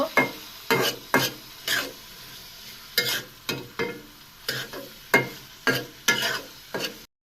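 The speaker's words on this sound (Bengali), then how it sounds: "এখন পেঁয়াজ ভালোভাবে ভেজে নেব" Onions fry in a pan while a spatula stirs and scrapes in quick, rhythmic strokes, each sharp scrape rising over a low background sizzle.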